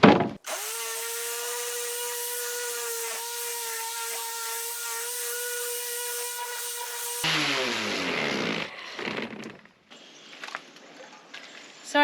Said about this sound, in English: So I was just sanding